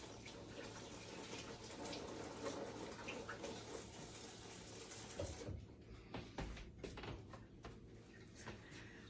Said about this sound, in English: Wash my hands real good before I touch that.